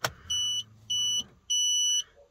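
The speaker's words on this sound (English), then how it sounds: "Don't mind the beep, that's the LPG." Three steady electronic beeps from the LPG system of a 2006 Mazda RX-8, evenly spaced, sound over a faint idling background, fairly close and clear.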